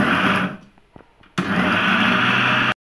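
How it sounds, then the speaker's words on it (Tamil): A blender grinds bread coarsely for gulab jamun in two loud, whirring bursts: the first stops after about half a second, a quiet pause with light clinks follows, and the second runs steadily until it cuts off abruptly. "இப்போ நம்ம பிளேண்டில் வச்சாச்சு. இப்போ நம்ம அரைக்க போகிறோம்."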